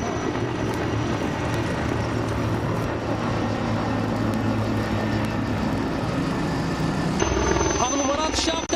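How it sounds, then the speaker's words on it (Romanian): Firefighting helicopter dropping water on a wildfire near Athens, Greece, heard as a continuous loud rotor and engine roar with a steady rumble throughout, while a person talks over it. "acesta este al 8-lea elicopter care aruncă apă în această zonă în ultima jumătate de oră"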